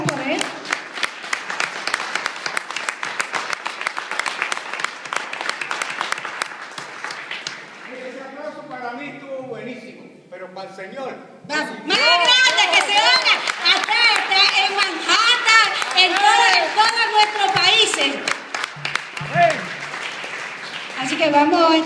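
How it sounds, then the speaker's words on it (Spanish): A church congregation applauds a visiting deacon with sustained, dense clapping for several seconds, then a voice speaks over the room and the crowd joins in loud, swelling voices afterward. "vamos a darle un fuerte aplauso"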